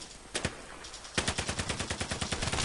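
Rapid bursts of automatic gunfire from a gun in a video game: one short burst, a pause, then a long steady stream of evenly spaced loud shots.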